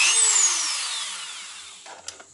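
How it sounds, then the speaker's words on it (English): Dremel rotary tool fitted with a burr drilling through plastic, a close high-pitched whine that slowly falls in pitch as it bites, fading out before a few small knocks. "just take my little Dremel, and luckily I've already got a burr on it. I'm just going to drill a hole through either end"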